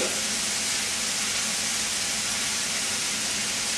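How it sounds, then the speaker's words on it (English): Garlic searing in hot natural lamb fat in a pan gives a steady, even, broadband sizzle and hiss that holds without pause at moderate level, with no talk over it. "I'm going to chuck that in there now and just start to sort of sear that off so it's lovely and golden brown on the outside"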